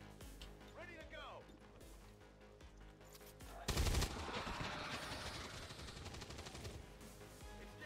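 Gunfire from the XCOM 2 strategy video game, a sharp loud burst of shots followed by dense rattling fire and crashes under continuous game sound.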